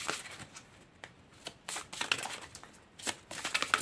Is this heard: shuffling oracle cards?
yes